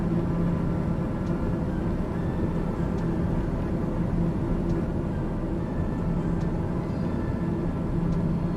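A Daher TBM 930 turboprop cruises in Microsoft Flight Simulator, a steady droning engine hum with a constant low rumble and faint periodic clicks, no speech.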